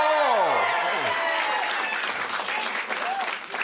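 Audience at an underground magic show bursts into loud, sustained applause with a few cheers and whoops over it, steady clapping filling the room.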